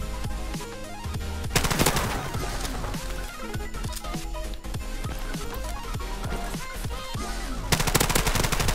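A Skorpion submachine gun fires in Modern Warfare Remastered, loud rapid bursts of close automatic fire with short pauses between volleys and no talk over it.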